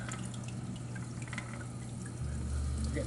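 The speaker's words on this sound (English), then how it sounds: "As soon as that starts getting low, I just automatically drip it in here" Water from an RODI top-off system drips into a home aquarium, with small scattered drips and trickles over a low steady hum that grows slightly louder near the end, faint and close.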